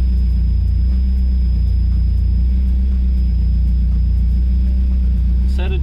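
Car engine idling steadily during base ignition timing adjustment with a timing light on a rusEFI-managed setup, running rich; a constant low rumble close by throughout, with faint ticking.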